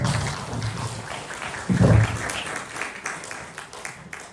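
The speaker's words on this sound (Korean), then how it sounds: "큰 박수 부탁드립니다" An audience at a religious gathering claps in sustained applause, a loud dense patter that swells briefly midway and then slowly fades.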